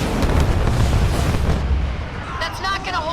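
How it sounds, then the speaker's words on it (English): Archer missile strikes from the Halo Wars 2 game detonate in a dense, rumbling barrage of heavy booms that gradually thin out, while a voice speaks over the tail end. "Isabel, launch Archer missiles now!"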